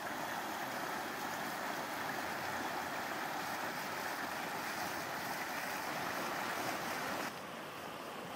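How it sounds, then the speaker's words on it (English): Rushing water of creek rapids on the Conejos River roars continuously in a broad, steady wash, with no voices and little change throughout. "we decided to come check out a closer view of the creek"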